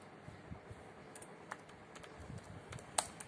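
Keys clatter as someone types into a Word file on a computer keyboard, producing quiet, irregular clicks scattered throughout with a few sharper taps near the end.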